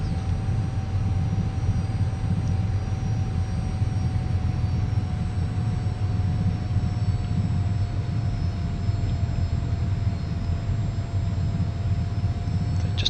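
An F-86 jet taxis in the DCS flight simulator, a steady, loud engine drone with a thin whining tone held above it, unbroken for the whole stretch.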